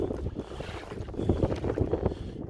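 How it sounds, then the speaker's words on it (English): Strong wind buffets the microphone in gusty low roars, steady and loud throughout with no voices, outdoors by a river in New Brunswick. "It's just too windy now for this little."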